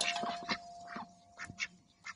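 A duck eating a large beetle gives several short, soft quacks and squawks in quick, uneven bursts, faint and close in an otherwise quiet setting.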